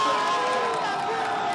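A crowd roaring and cheering at a professional surfing contest in Rio, a steady dense wash of voices heard from a distance, loud and continuous without breaks.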